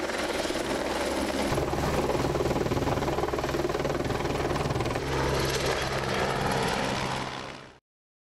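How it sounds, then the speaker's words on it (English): A helicopter working over the fells, dropping bags of stone for path repairs, roars loud and steady with a low rotor chop throughout, fading out at the very end. "helicopters are used to drop bags of stone on the fells."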